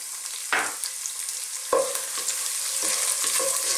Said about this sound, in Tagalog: Again, magigisa lang tayo.